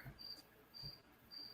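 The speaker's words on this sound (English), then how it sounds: "I think there's a cricket in my basement." A cricket in a house basement chirps in three short, evenly spaced bursts, faint and thin against a quiet room.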